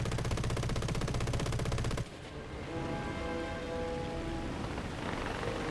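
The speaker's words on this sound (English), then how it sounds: "Let's open fire on some of these guys here." A single aircraft gun in the War Thunder video game fires a rapid, steady rattle of shots at close range for about two seconds. It then stops, leaving the engine drone and a fainter tonal hum, with no talk.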